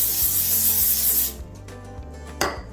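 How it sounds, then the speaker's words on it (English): Nonstick vegetable oil spray hisses steadily onto a hot preheated pan for just over a second, then cuts off, leaving quiet kitchen clatter and a brief knock. "I'm gonna spray it with our nonstick spray,"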